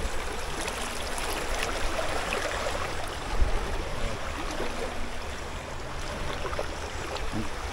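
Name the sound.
strong river current flowing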